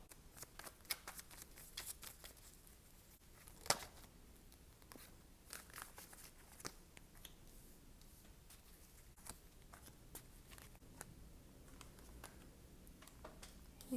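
Tarot cards handled and shuffled by hand at close range, a quiet run of soft riffling, slaps and papery crinkles with a few sharper snaps, steady for several seconds with no talking.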